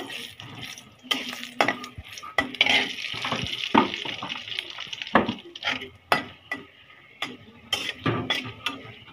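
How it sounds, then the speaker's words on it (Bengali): Dried red chillies are dry-roasted in a pan in a home kitchen, with repeated clinks and scrapes of stirring over a faint, intermittent sizzle and no voices. "এই তো কয়েকটা মরিচ টেলে নিচ্ছি, শুকনা মরিচ"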